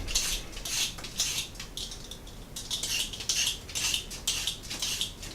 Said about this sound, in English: Get the carrots peeled here.